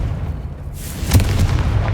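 A Confringo spell explosion in the Hogwarts Legacy video game: a low boom bursts out about halfway through and rumbles on over a steady game soundscape.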